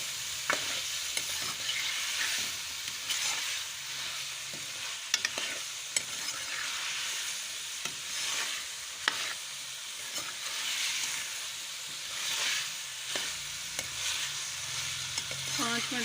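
Cut potatoes fry in spiced oil for aloo anday curry, a loud continuous sizzle and hiss with a spoon stirring and scraping the pan at irregular intervals.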